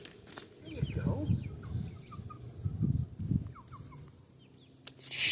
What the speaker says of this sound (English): She's going to cluck before any of them.